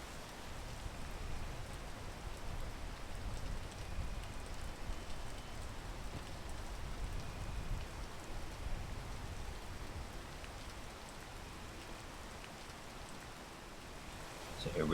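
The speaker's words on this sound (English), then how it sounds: "Oh, and it starts raining." Rain pours in the video game PEAK as a steady, soft hiss that continues evenly from start to finish, low in level and with no voices over it.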